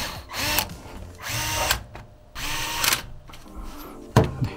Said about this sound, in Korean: 이렇게 4개 나사 장착을 해주시면 되고요